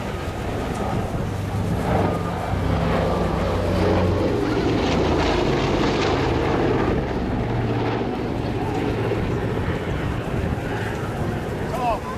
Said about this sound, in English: as we watch the Super Constellation take off and turn for fantastic engines once again